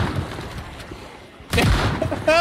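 Weapon fire in the zombie survival game Project Zomboid, aimed at a horde: a loud broadband burst hits about midway after a quieter stretch, with another sharp report near the end, no talking over it.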